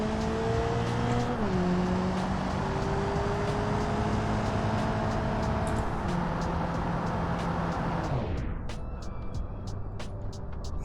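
A car in the BeamNG Drive driving game roars at sustained high revs, shifting pitch as it speeds toward a caravan, loud and continuous, then the engine tone drops away near the end.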